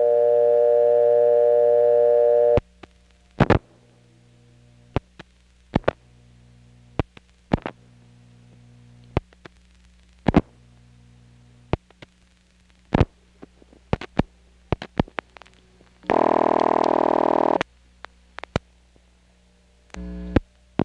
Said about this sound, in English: I'll pick up the phone, put in a dime, dial a local ringing number, and then hang up quickly